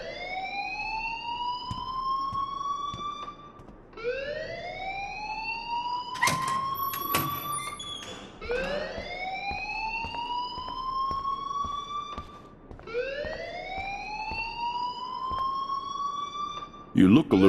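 Rising and falling siren-like alarm wailing in repeated sweeps in the video game Life Is Strange, loud and continuous with a brief burst of other noise midway and voices talking underneath.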